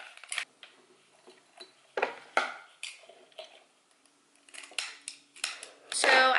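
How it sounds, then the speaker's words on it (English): Scissors snip through red and clear white ribbon in a series of short, crisp cuts, spaced irregularly with quiet gaps between, close and moderately loud. "So I just cut some ribbon."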